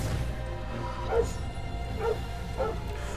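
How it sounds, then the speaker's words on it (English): Dogs at home barking at someone in the yard, three short yips spaced about a second apart, somewhat distant beneath a steady background hum. "you can probably hear my dogs going off because somebody has pulled up in the yard"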